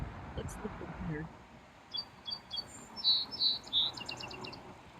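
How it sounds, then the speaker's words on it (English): A song sparrow sings outdoors, a bright phrase of quick chirps and trills rising after a second of rustling, moderately close and clear against soft background noise. "So that's a song sparrow."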